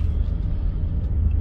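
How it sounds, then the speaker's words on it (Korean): Heavy low rumble of traffic driving in on the Jebudo sea road across the tidal flats, a continuous near drone of engines and tyres with no voices. "들어가는 차도 많고"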